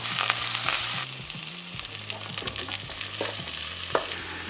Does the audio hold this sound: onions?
yes